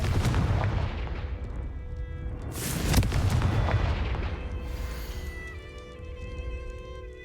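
A Confringo blast spell from the Hogwarts Legacy video game bursts in a loud, booming explosion, with a sharp crack near the middle that rolls off into rumbling debris and lingering tonal magical hum.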